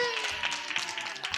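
Children's Bible quiz audience gives a short burst of scattered applause, light claps close by with some voices mixed in.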